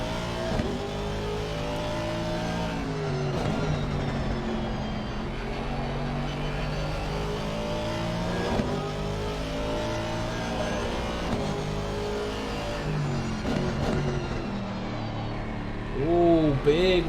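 Race cars in an ACCSS Sprint round at the Indy road course roar continuously with layered engine drones and rising and falling revs, loud and sustained, while a commentator talks over the racing.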